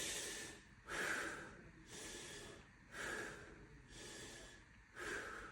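Slow, deep breaths during a fascia stretching exercise, close and audible, with several long inhales and exhales alternating in a steady rhythm and no talking.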